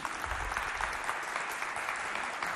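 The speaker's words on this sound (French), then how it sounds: "Et applaudissez pour vous." A studio audience at a televised youth show claps in a dense, steady burst that continues evenly throughout, moderately loud.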